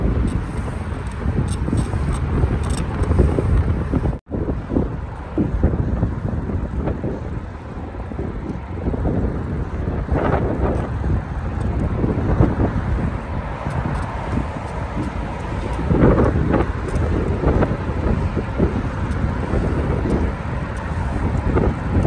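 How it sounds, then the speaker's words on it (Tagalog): Strong wind buffets the microphone on a bridge during a ride, a continuous low roar with rising and falling gusts and a faint underlying rumble throughout. "grabe din ang hangin"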